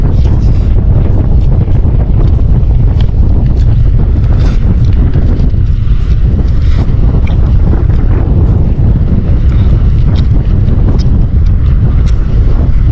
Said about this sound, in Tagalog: Dito mas maganda po ang mahangin